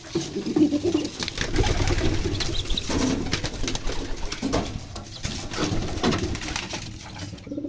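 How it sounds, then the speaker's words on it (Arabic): Domestic and homing pigeons cooing steadily in a loft, a dense continuous chorus of low throaty coos from several birds close by, with a faint engine hum underneath. "ده سريعا كده كان انتاج الحمام بتاعنا، سواء الحمام الزاجل او الحمام البلدي"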